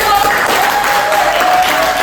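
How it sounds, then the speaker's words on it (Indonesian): Loud, dense applause from a university teaching-session audience at Universitas Pakuan, a constant wash of clapping filling the moment with a thin steady tone and some voices mixed in. "Terima kasih tepuk tangan"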